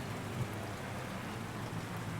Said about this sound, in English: all I can tell you is it's still raining